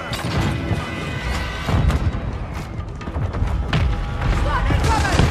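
Mortar strike explosions in the Modern Warfare 2 video game, played in Hardpoint mode on the La Casa map: repeated heavy booming thuds and crashes roll through dense battle noise, with game radio voices talking over them.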